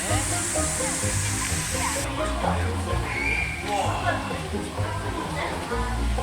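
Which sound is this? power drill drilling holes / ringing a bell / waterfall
waterfall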